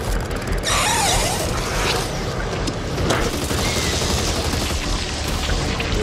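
Gunfire and mechanical weapon clatter in Back 4 Blood, with a sharp burst near the start followed by continuous dense rattling and clanking, loud and close.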